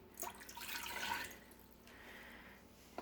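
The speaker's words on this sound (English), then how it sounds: "So we dump the water in because you always start with the thinnest liquid first." Water is poured into an Instant Pot as the first liquid for spaghetti and meatballs. It makes a quiet, brief splashing rush that tapers off, with faint drips afterward.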